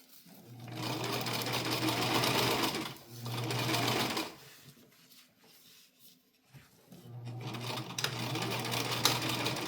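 Sewing machine stitching a cloth diaper: three loud, steady bursts of rapid humming stitching separated by pauses filled with fabric handling and quiet rustling.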